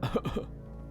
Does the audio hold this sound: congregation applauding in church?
no